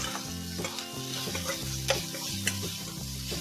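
Capsicum sautéed with salt sizzles in a pan while being stirred, producing a loud continuous frying hiss with occasional scraping clicks from the spoon, close up and without voices.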